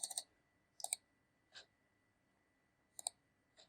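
A computer mouse gives a few sharp, close clicks, some in quick double pairs and others single, separated by quiet gaps in an otherwise silent room.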